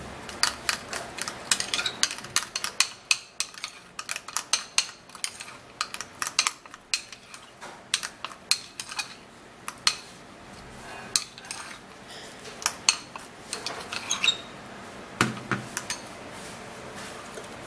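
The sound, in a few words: mixing skin toner ingredients in a bowl with a spoon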